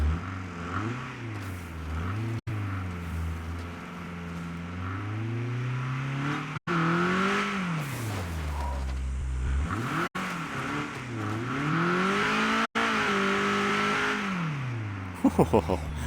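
A small car driving in the video game State of Decay 2, a steady engine drone rising and falling with revs and gear changes, loud and continuous with brief cuts, and a few clicks near the end.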